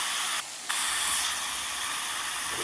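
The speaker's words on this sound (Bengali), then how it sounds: "এবার ওই তেলের মধ্যে দিয়ে দেবো কালো জিরে মশলার পেস্টটা করে রেখেছিলাম সেটাকেও দিয়ে দিলাম" Black cumin spice paste hits hot mustard oil and hisses in a loud, steady sizzle, broken once by a short dip, then spraying on evenly without any voices.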